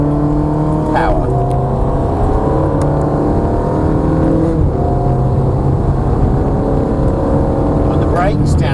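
A Ferrari engine roars loud and continuous as the car accelerates on a race track, steady high-pitched tone with a voice speaking over it.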